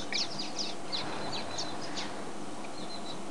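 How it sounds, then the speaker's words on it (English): A woodland kingfisher gives a run of high, rapid trilling calls, fairly close, over a soft background hiss, the notes dropping off near the end. "A woodland kingfisher, very close to the vehicle."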